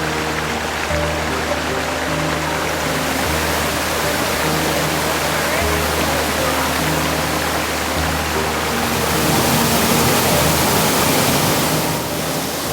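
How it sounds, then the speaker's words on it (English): Steady rushing water of river rapids in a jungle fills the scene, a dense, continuous wash of flowing noise, with low tonal hum lines drifting underneath. "the noises of the nature plus the water flowing is so nice"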